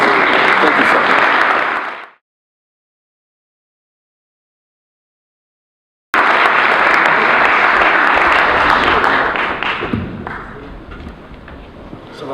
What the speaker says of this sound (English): And you know what, you can applaud, please.